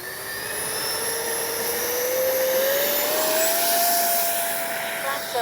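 Freewing 70mm F9F Panther RC jet with its electric ducted fan at full throttle on a runway pass, a loud whining roar whose pitch climbs and holds, then eases slightly near the end.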